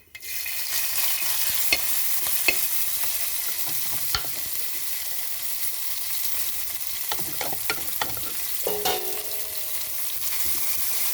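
Crushed ginger, green chilli, onion and garlic sautéing in a hot pan, a continuous close sizzle broken by scraping stirs and clanks of a utensil against the pan, with no voices.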